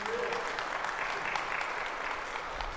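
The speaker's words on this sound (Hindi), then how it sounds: "जोरदार तालियां बजा" Applause at a church gathering of pastors and elders: a faint, steady patter of clapping from a congregation, continuous and somewhat distant, with voices mixed in.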